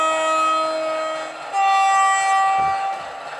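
A Class 60 diesel locomotive horn in a train simulator game sounds two loud, sustained blasts back to back, the second pitched slightly differently from the first, with a brief dip between them.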